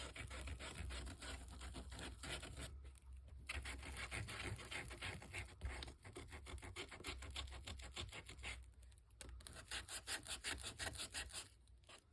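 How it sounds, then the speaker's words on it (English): A small sanding disc rubs back and forth across the wooden surface of a slide in a steady, close, continuous grinding rasp, with two brief pauses. "I'm going to kind of sand the surface of these a little bit here and there"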